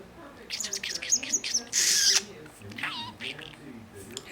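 A pet budgie chirps and chatters in quick bursts, bright high tweets close to the microphone with a louder squawk midway, a person's voice mixed in between.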